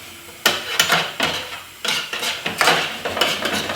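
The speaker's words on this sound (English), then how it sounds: "And then give that a good stir through." Food being stirred in a pan with a utensil, giving a series of close, irregular scraping clinks and clatters in short bursts with brief pauses between them.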